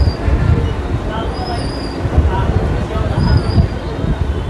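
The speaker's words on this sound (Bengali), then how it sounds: "বন্ধুরা, কৃষ্ণনগর স্টেশনে কিন্তু এখন প্রবেশ করছে আমাদের ট্রেন" Train pulling into Krishnanagar station on the newly reopened Amghata–Krishnanagar line, a steady low rumble of rolling cars with faint high wheel squeals, while voices murmur in the background.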